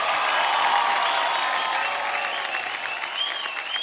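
A large audience at the 68th Filmfare Awards bursts into loud, sustained applause with some cheering, the clapping staying dense and even throughout.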